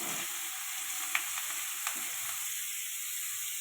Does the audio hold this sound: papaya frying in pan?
yes